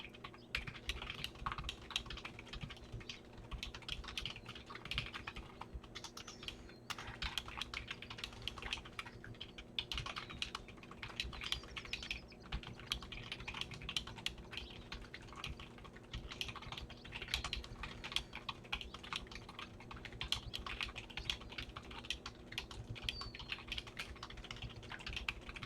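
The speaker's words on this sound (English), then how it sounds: "here we go with the membrane keyboard" Fast, continuous typing on a membrane computer keyboard produces dense, soft keystroke clicks in an even rhythm for over twenty seconds. The sound is close and fairly quiet over a low background hum.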